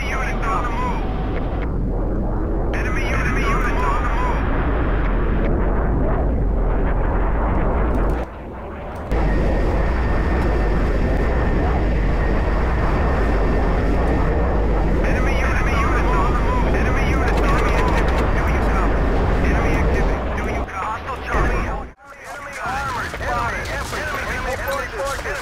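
A bomber aircraft in Battlefield 2 multiplayer on the Gulf of Oman map drones steadily with a loud engine roar, broken by brief drops and mixed with game noise, while a voice talks over it.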